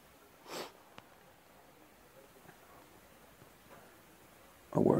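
A man wearing strong glasses that press on his nose sniffs sharply through his nose during taxidermy prep of a whitetail deer's face, one brief sniff early and a louder one at the end over quiet background hiss.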